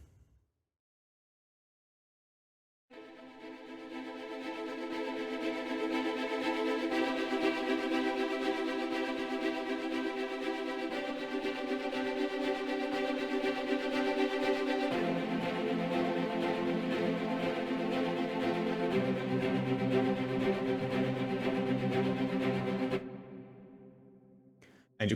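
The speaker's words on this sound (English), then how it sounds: "this fast repeating string rhythm is just something I like to use in a lot of my music" Native Instruments Action Strings play a fast, repeating string rhythm, steady and fairly loud with no talking, after a short silence. The chords change a few times before the pattern stops abruptly near the end.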